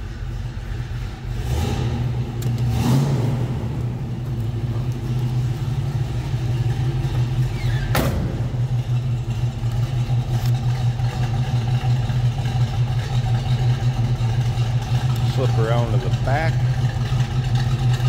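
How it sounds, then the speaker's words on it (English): Rumbling V8-style idle from a 1968 Pontiac Firebird convertible just after start-up, a steady deep drone that fills the whole stretch, with a few brief clicks and short bits of speech over it. "We power it up. Hear that or the rumble of the engine."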